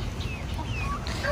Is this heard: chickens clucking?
yes